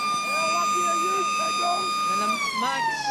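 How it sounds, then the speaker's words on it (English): Siren sounding to end the third quarter of an Australian football match, a long steady wailing tone that bends downward near the end, heard over crowd noise and a commentator talking. "They're about to blow the siren."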